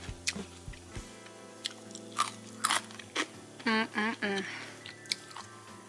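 Crispy fried tofu being bitten and chewed up close, several sharp crunches followed by softer mouth sounds, with a brief voiced murmur between bites.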